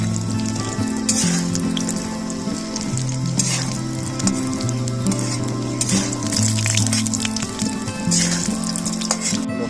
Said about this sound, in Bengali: বড়িগুলো একটু লাল লাল করে ভেজে নিতে হবে